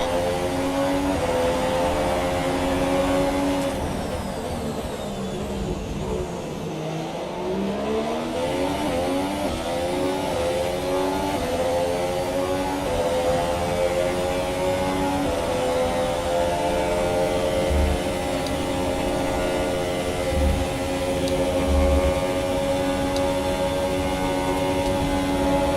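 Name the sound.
race car engine in a racing video game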